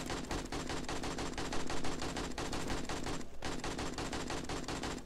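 Rapid, continuous gunfire in the 7 Days to Die video game, a dense steady rattle of evenly spaced automatic shots with a brief gap midway, heard from a distance.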